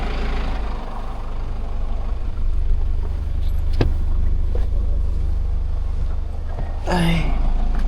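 A car's engine drones steadily from inside the cabin, a constant low rumble with road noise, punctuated by a few brief clicks and a short voice near the end.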